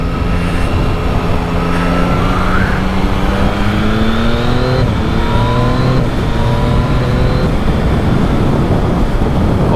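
Yamaha XSR900GP motorcycle with an MT-09 engine, accelerating hard to overtake on the road, its loud rising revs climbing through several gear changes over constant wind rush.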